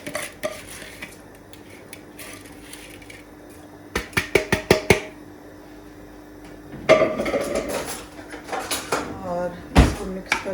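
Rice clattering and scraping into a metal cooking pot for mutton pulao, with bursts of sharp metallic knocks and stirring clinks separated by quieter gaps, close and fairly loud.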